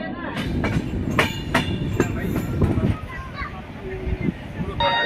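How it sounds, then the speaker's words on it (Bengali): A passenger train running between Lucknow and Bareilly rumbles steadily along, with rhythmic clatter and sharp metallic knocks from the rail cars over a dense low roar, and faint voices in the background. "লখনৌ থেকে ট্রেন ছেড়ে দিয়েছে"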